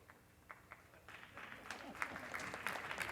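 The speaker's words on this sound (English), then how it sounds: "That's right, they should be applauded." Audience applause at a civic meeting, starting with a few scattered claps and building into fuller, denser clapping from a modest crowd, fairly faint and distant.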